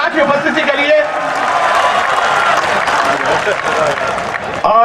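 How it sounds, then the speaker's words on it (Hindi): Loud, sustained applause from the audience at a Hindi poetry gathering during the Datia Phag festival, a dense wash of many hands clapping close and full for several seconds before stopping abruptly. "जरा जोरदार तालियां बजाएं भाई शैलेश लोढ़ा की उपस्थिति के लिए।"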